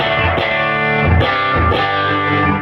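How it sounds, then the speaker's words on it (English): Electric guitar chords through a tube amplifier ring with a lush, washy reverb tail, strummed a few times, each one blooming and lingering. "Sickly sweet reverb."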